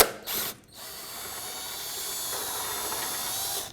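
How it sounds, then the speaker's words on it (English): A power tool removing a bolt during alternator replacement on a 2008-2011 Ford Focus whirs in a short burst, stops, then runs again in a steady mechanical buzz, close by. "I'm going to switch over to our power tool and zip that out"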